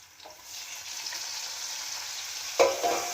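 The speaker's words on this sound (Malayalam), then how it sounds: "ഉള്ളി ഒന്ന് വഴണ്ട് വരുമ്പോൾ നമുക്ക് നമ്മുടെ തക്കാളി ഇട്ട് കൊടുക്കാം" Onion sautéing in a pan as tomato is dropped in for a fish curry base, a soft steady sizzle ending in a louder burst of hissing and a clatter near the end, no speech.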